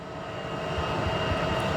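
A China Southern airliner from Luzhou taxis along the yellow line at an airport after landing, its engines giving a steady, fairly loud whine and rumble without pause.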